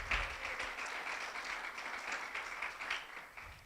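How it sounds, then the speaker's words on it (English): Applause from a church congregation during a sermon, a fairly faint, sustained clatter of many hands with no speech over it. "Yeah, you can clap for that."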